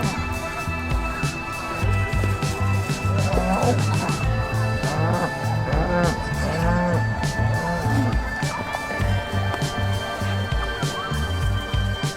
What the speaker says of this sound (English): voices raised in a chorus of excited moos